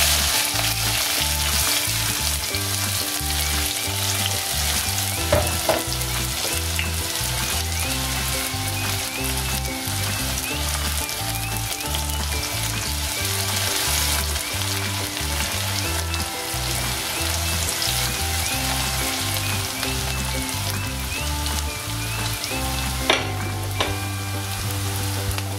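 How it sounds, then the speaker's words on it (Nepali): Onions fry in hot oil with panch phoron and dried chillies, a steady close sizzle and crackle that carries on unbroken, with faint stirring sounds now and then. "एकछिन मैले प्याज फुराएँ।"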